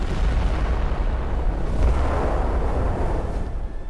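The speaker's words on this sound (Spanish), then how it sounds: "El pañol de municiones había sido alcanzado. La explosión partió la popa del barco." A huge explosion of the battleship Hood's ammunition magazine, heard as a loud, sustained rumbling roar that swells and lingers without any voices.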